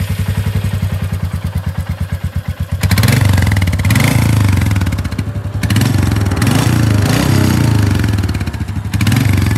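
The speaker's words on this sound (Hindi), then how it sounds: "इस इंजन के साथ साउंड काफ़ी ज़्यादा ना बंधा हुआ एक साउंड आ रहा है इसमें ना, बहुत बेसी और बहुत ज़्यादा स्मूथ" A Royal Enfield Meteor motorcycle engine idles with a steady, smooth bassy thump, then gets louder and fuller as it is revved in several rising swells, heard up close.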